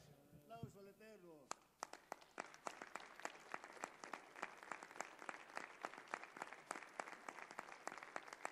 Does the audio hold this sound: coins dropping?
no